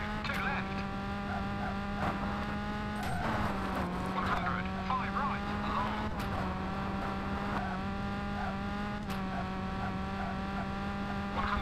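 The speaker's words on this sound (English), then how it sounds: "My poor squeaky brakes." Engine drone and a steady high squeal from the squeaky brakes of a 1.6L rally car in the V-Rally 3 game on Xbox, racing in France, with faint tire noise and occasional clicks under someone talking.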